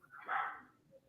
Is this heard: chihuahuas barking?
yes